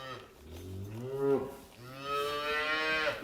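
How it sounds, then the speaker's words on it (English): A bottle-fed calf in a farm calving barn moos twice, close and fairly loud, a long drawn-out bleat followed by a second sustained call, with no talk. "He's one of our bottle calves."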